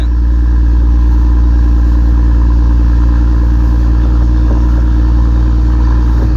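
Fishing boat engine running steadily while the boat travels at sea, a loud continuous low drone with a constant hum and no pauses.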